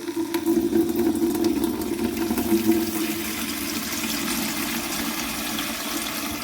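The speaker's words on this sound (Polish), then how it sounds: "Napuśćmy sobie tej zimnej wody, żeby to się jeszcze szybciej zrobiło." Cold water runs hard from a tap into a container, a loud, close, continuous rush that eases slightly as it fills.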